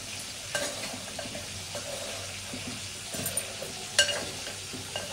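Pangas fish frying in a pan in a home kitchen, a steady low sizzle with light stirring and scraping, a few sharper clinks, no talking.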